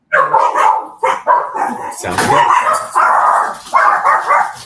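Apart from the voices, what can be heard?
dog barking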